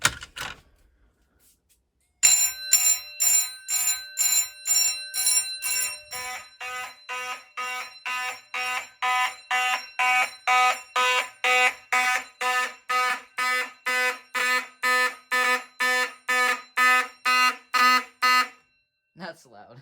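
An Edwards fire alarm system sounds loud, rapid, pulsing electronic tones that start abruptly, settle into an evenly repeating beat and stop near the end.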